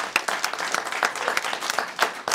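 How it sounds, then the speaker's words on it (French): A small parish gathering in Châteauneuf claps after a personal testimony, distinct individual claps standing out in an uneven, moderately loud patter that continues without letup. "On peut vous applaudir"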